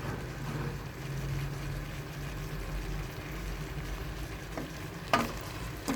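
Shrimp fry in a pan with a steady, close sizzle that runs unbroken, and a brief utensil clink comes near the end.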